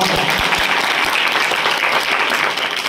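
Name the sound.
audience clapping for parents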